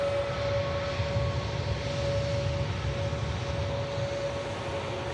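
An Airbus Neo airliner taxis past at Manchester Airport, a steady broadband engine roar with a sustained whine tone, moderately close and constant, with no voices.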